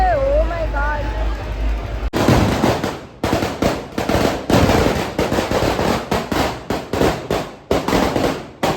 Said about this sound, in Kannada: ಇನ್ನು ಪಟಾಕಿ ಹಚ್ತಾ ಇದ್ದಾರೆ.